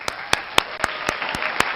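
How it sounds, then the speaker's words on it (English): Clapping from a small group at a casual sports talk show, sharp claps spaced irregularly over a steady noisy background. "let's give a big round of applause to the sorry-ass Texans"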